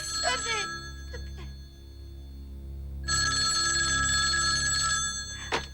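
A telephone rings indoors in two long electronic bursts with a short gap between them, loud and steady over a low hum.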